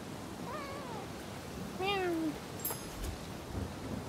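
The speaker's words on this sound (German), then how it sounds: "Und da ist eine Katze." Cat meowing in the video game Rise of the Ronin, two or three distinct meows, the middle one longest and loudest, over a soft rainy ambience with a faint distant rumble.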